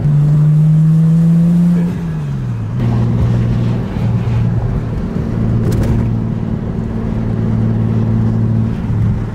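A Nissan Skyline with worn turbos runs with a loud, close, steady engine drone. The pitch dips and settles early on, then holds an even hum throughout with no talking.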